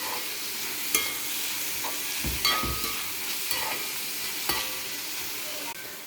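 Beans and vegetables sizzle and fry in ghee in a pan while a spoon stirs them, giving steady close frying noise with occasional scraping clinks and no talking.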